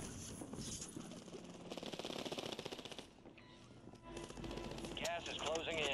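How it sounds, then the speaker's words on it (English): Rapid automatic gunfire crackles through Call of Duty on Rebirth Island, bursts rattling alongside game effects and a player's voice, sustained and fairly close. "Who's shooting at me?"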